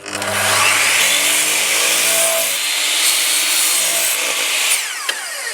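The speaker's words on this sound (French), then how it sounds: "avec n'importe quelle scie radiale de couper, pour avoir une surface propre, ça va être comme ça" A radial arm saw whines loudly and steadily through a cut in wood, the motor's pitch shifting as the blade bites, then spinning down near the end.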